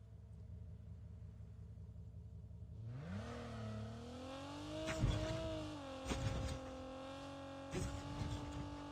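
A car driven in the mobile game Call of Duty Mobile, ranked battle royale: a low engine rumble starts from near silence, then revs and climbs in pitch, with a few sharp thumps and bumps along the way.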